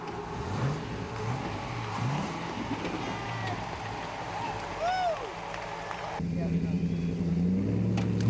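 Off-road race cars rev and bash through rough bush terrain at a charity race in Kenya, engine notes rising and falling at middle distance over a continuous rumble.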